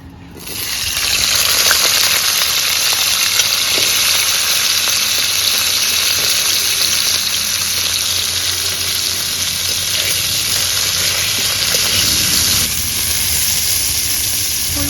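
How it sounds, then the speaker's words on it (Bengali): Cauliflower florets frying in hot oil, a loud, dense, continuous sizzle that stays steady throughout with faint scraping now and then. "এবার ফুলকপিগুলোও ভেজে নেব"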